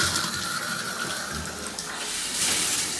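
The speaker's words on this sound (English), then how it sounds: "Now all the water's coming out from up top" Water pours steadily from an overhead shower head in a bathtub after a diverter valve replacement, a constant close rushing hiss with no pauses throughout.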